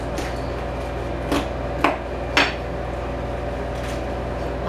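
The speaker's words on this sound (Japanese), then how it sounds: "あとは包丁を入れてきれいに割っていきます" Sharp cracking knocks of a knife splitting tilefish bones, three distinct hits a half-second apart, over a steady background hum.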